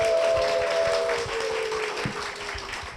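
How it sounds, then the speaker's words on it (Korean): An audience applauds steadily to welcome a guest onto a Christian TV church program, a dense wash of clapping with a sustained electronic tone running underneath. "박수로 모시겠습니다."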